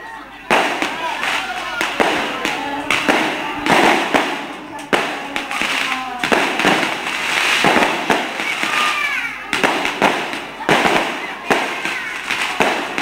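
Firecrackers bang in loud irregular bursts, with sharp cracks and rattling volleys repeating throughout, close by, under a voice talking.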